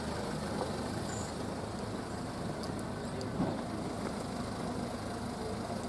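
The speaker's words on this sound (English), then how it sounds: "Whilst this guy would turn his car engine off." A car engine idles nearby in a parked setting at Betws-y-Coed, a steady low rumble running evenly throughout with a faint outdoor background.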